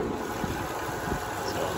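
A 2007 Honda Odyssey's engine idles under the hood, a steady, low rumble close by with a faint ticking texture, even and unchanging throughout.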